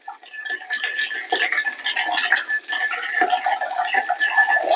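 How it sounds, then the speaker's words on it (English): Ice is stirred in a chai latte, making a steady jangling, clinking rattle of cubes against the glass that carries on close and clear without pause and with no talking. "We're going to give it a good stir until it's nice and"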